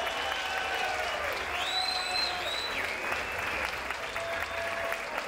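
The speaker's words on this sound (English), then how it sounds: "give both these warriors a round of applause" Sustained crowd applause for two fighters after a three-round Rise of Champions bout, filling the arena evenly with some cheering mixed in.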